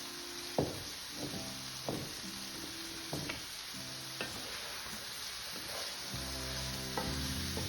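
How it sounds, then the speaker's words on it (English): Zucchini sautés in a pan under a constant bright sizzle, while a utensil knocks and scrapes against the pan every second or so, close and moderate, with no talking. "Since we're sauteing"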